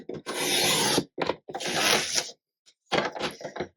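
Scissors cut apart watercolor paper Christmas tags in close, crisp snips and slicing strokes, several in a row with short silent gaps between them.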